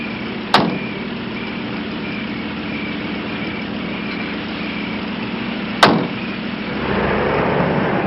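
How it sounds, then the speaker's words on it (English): A limousine rolls along the Sunset Strip, its engine giving a steady, even drone and road hum from inside the car, broken by two sharp clicks and a slight rise in rumble near the end. "Shane is driving Stuart in the Chamberlain limousine"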